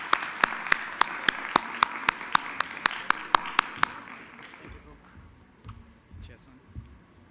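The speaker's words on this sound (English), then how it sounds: "A warm round of applause, please." A single person claps about a dozen sharp, evenly spaced times for a few seconds at an alumni awards and social impact event, then the claps stop and a few quiet voices and room noise follow.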